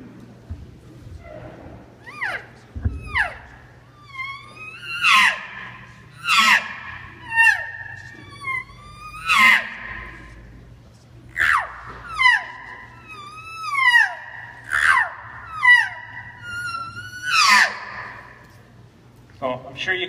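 A hunter imitates a cow elk scream with his voice, giving about a dozen repeated high, wavering squealing calls in an irregular rhythm that are loud and close, over a low steady hum.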